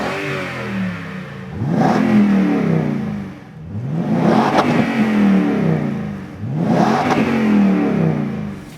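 A Toyota Tundra with a Rough Country dual side exit and rear exit aftermarket exhaust revs up three times in a row, each throaty exhaust roar rising and falling back to a deep idle, loud and close.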